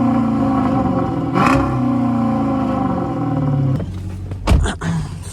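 A Dodge Charger Pursuit with its muffler deleted idles with a deep, loud, raw exhaust rumble, then blips into a couple of short revs near the end, heard close and alone.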